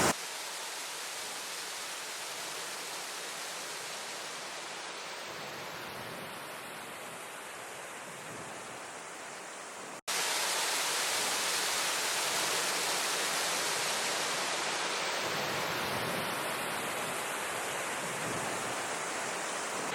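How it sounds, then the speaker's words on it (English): Ashgill Force waterfall pours in a steady, dense roar of rushing water, close and continuous with no voices, its level rising slightly partway through. "that was a beautiful trip to Ashgill Waterfall"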